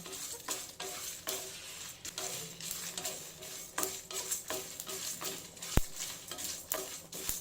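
Spices dry roasting in a pan for hirekai kootu, a steady soft crackle and rustle with repeated scraping strokes of a spatula and one sharp clink, close by, no talking.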